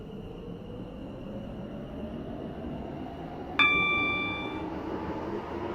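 A train runs in the Stepford County Railway video game, a three-coach Waterline service bound for Greenslade, giving a steady, close rumble throughout, with a single bright chime ringing out and fading just past the midpoint.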